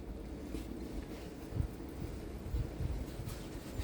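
Wind rumbles and buffets against the microphone with a steady low roar and a few stronger gusts, no voices present.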